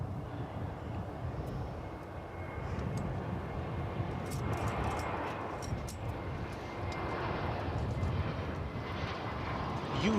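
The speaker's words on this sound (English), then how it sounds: "You hear it, now you see it. American Flight 2579 from Denver, an Airbus A321." An American Airlines Airbus A321 jet at DFW Airport gives a steady, fairly faint engine roar that holds across the whole stretch, with wind and outdoor background noise and no clear talking.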